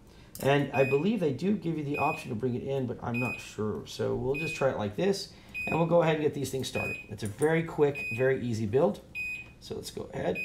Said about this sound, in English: Sorry about the beeping, guys. It just means somebody's in the driveway.